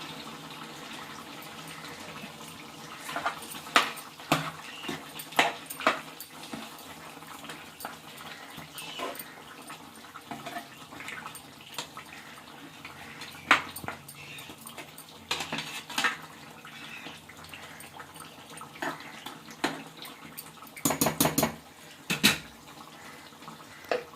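Spoon scraping and clinking against a pot while chicken curry is stirred, with scattered metallic knocks and taps over a steady low kitchen hiss, fairly faint and close.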